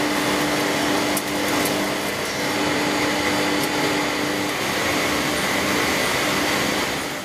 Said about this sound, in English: a machine that produces step drills